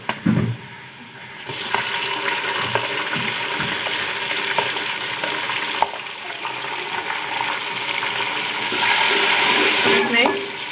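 Tomatoes are added to browned onions in a pot. A loud, steady sizzle of frying follows, with stirring clatter, and it swells again near the end.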